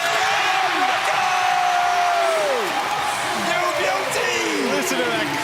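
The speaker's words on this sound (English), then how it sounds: "Listen to that crowd go nuts" NBL crowd at a Brisbane Bullets vs New Zealand Breakers game erupting after a block and lob, a sustained loud roar of cheering and whooping with sneaker squeaks and a commentator's voice under it.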